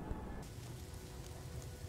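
Steady rain falling on an alien planet in No Man's Sky, a soft, even hiss with faint scattered drops that stays quiet and constant throughout.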